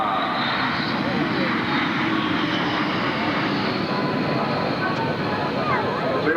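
A steady, loud jet roar from an F-4 Phantom at the 1995 London International Airshow, a continuous engine rumble and whine from a landing aircraft.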